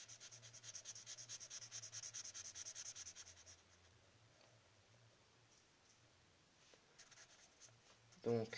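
Steady scratchy rubbing of a felt-tip marker on paper, soft and continuous, easing off midway and ending with a brief louder knock.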